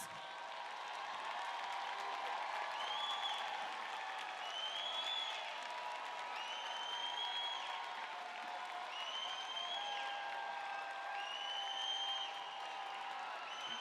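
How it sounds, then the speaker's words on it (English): At the Paint Branch High School 2023 commencement, the crowd gives a long round of applause for graduates' families, a steady, distant wash of clapping that continues evenly for over ten seconds, with faint high chirping tones drifting above it. "Can we give our families a huge round of applause?"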